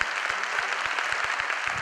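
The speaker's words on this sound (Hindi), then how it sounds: "जबरदस्त तालियां हो सकती है इसके बारे में" An audience at a Modicare business opportunity meeting applauds, a dense and even patter of many hands clapping, steady and moderately loud throughout, with a few low thumps beneath and no voices over it.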